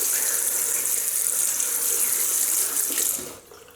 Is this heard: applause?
no